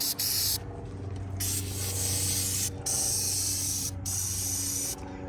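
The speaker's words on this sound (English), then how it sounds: "This is like a wet product. I usually like the foamy type stuff" About four short bursts of engine cleaner from a spray bottle hiss loudly in a Mustang EcoBoost engine bay, separated by brief pauses, over a low background hum.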